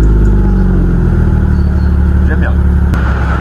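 Exhaust of a Nissan 370Z Nismo with its V6 tuned to 360 horsepower, heard as a strong, steady low idle drone close by, with a couple of brief blips rising near the end.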